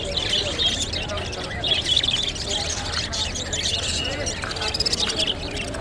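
Budgerigars chatter and chirp in a dense, continuous twitter at a busy bird market. Crowd noise and people talking run underneath throughout.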